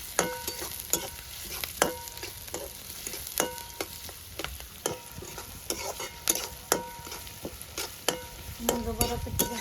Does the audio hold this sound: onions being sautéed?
yes